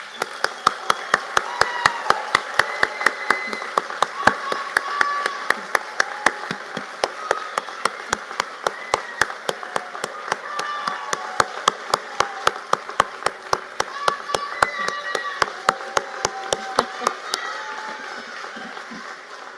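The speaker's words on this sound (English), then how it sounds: "we're all going to give them a big clap" An audience at a university graduation ceremony for the science, agriculture, business and law faculty claps for supporters, with sharp, dense handclaps running steadily throughout and a few voices underneath.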